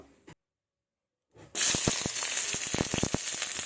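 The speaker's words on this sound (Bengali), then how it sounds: "পেঁয়াজ কুচিগুলোকে একটু ভেজে নেব, একটু লাল লাল করে।" Chopped onion hits hot oil, left over from frying fish, in a wok. After a brief silence a loud, sudden sizzle bursts out and continues steadily, dotted with sharp popping crackles.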